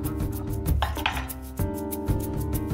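Passion fruits cut on a board in a home kitchen, with a few close knife taps and clinks against a steady cooking background.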